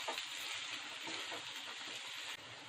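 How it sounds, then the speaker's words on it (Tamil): Vegetables with peas, cauliflower and paneer frying on medium heat in a pan for a vegetable pulao, giving a steady, even sizzle and hiss throughout with faint stirring crackles underneath and no talking. "மிதமான சூட்டில் ஒரு 2 நிமிஷம் காய் வேகட்டுங்க"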